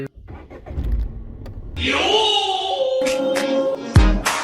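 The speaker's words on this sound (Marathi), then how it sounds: "चल तू आता गाडी चालू कर" After a few soft clicks, a car engine turns over and catches, then settles into a steady running hum with a thump near the end.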